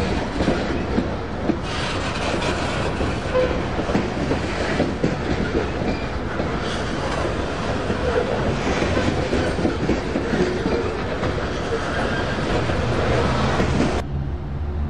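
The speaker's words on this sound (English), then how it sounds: "G908 pulls up and into the siding to run around the train." CSX grain train G908 pulling into a siding: steady loud rumble of engines and railcars with clickety-clack of wheels and occasional squeal, continuous throughout.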